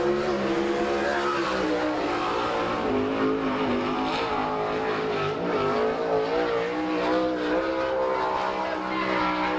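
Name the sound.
race cars driving around a race track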